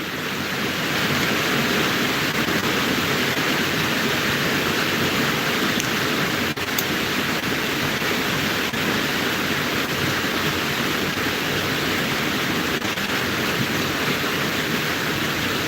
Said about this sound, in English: it's like I'm competing with the rains to speak